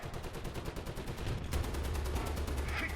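Rapid cannon fire from a tank shooting at an aircraft in War Thunder, a dense, loud run of repeated bursts that merges into sustained rumbling battle noise over three seconds.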